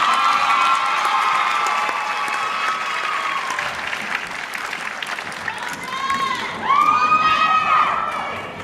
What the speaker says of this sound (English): Y'all make some noise for our student speaker of tonight, Jasmine Fountain